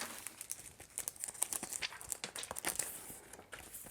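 Soft, faint crinkling and rustling of a paper sticker being handled and pressed onto a Christmas notebook, a series of small close crackles and taps without talk.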